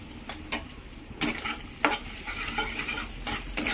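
Egg fried rice being stir-fried in a pan with turmeric, a continuous close sizzle punctuated by sharp scraping strokes of a spatula against the metal.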